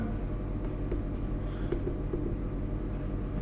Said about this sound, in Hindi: लिख रहा हूं मैं एक बार